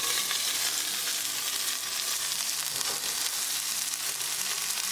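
Chicken breast pan frying in oil over a medium gas flame, a dense, continuous sizzle that stays loud and steady throughout with no talking.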